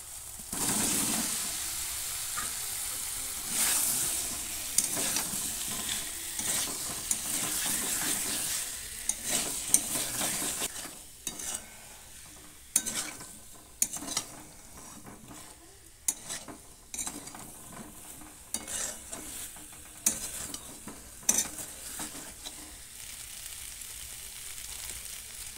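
Small new potatoes fry in a pan, a steady sizzle under repeated scraping stirs that come in irregular bursts, fairly close and moderate in level, with no talking.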